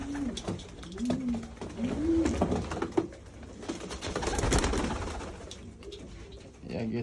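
Pigeons coo repeatedly at close range in a loft at feeding time, their low rolling calls recurring over several seconds amid rustling, handling noise and background bustle.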